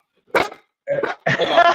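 A dog gives a few short barks and yips up close, three separate bursts within a couple of seconds.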